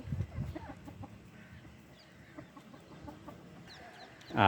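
A hen that was recently brooding, now roaming again, gives a few low clucks near the start, then quieter scattered farmyard sounds, with a louder burst of noise right at the end.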